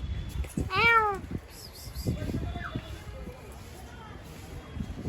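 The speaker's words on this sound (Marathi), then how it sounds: "हे काय नाही हे मांजर आहे" A cat at a zoo gives one clear, nearby meow, followed by quieter chirps and background noise while someone talks.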